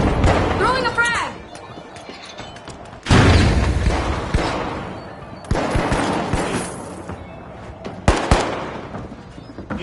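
In the game The Finals, a frag grenade goes off with a sudden heavy blast amid scattered gunfire and further booming impacts, while a game announcer talks over the action.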